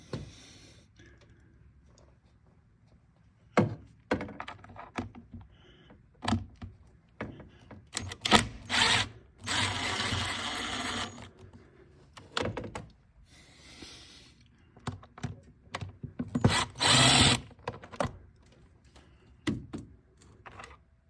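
Phillips screws being unscrewed from the back of a filter cover, with irregular close clicks, scrapes and rattling bursts spread across the stretch between quieter pauses.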